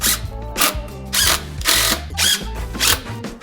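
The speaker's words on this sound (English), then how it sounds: "attach our angle iron with these 2-inch screws" A power drill drives 2-inch screws into angle iron for a wooden bench, running in about five loud, close bursts separated by short pauses, with no talking.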